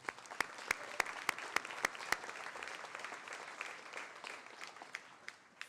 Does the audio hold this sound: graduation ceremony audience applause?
yes